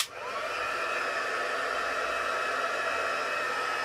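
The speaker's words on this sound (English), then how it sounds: "I'm going to take my heat gun," A heat gun blowing hot air during a watercolour resist card craft, a steady close whooshing roar that starts abruptly and holds evenly without talk.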